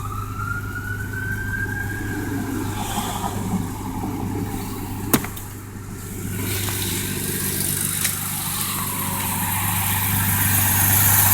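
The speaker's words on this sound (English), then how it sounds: "So it sounds like it's running pretty smooth under here." A car engine idles smoothly after a check-engine fault was fixed, a steady low hum heard close under the hood with a faint rising whine and a brief click partway through.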